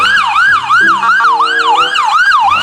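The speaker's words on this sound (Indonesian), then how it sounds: "ini ada mobil ambulan" Toy ambulance sounding its siren, a loud electronic wail sweeping up and down repeatedly and steadily, close and without talk.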